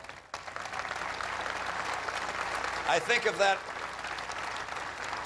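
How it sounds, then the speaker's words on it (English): An audience applauds a U.S. Navy veteran of 33 years' service. The clapping is sustained and wash-like for several seconds, while a voice speaks over it partway through. "we applauded him as we recognized his sacrifice for our country"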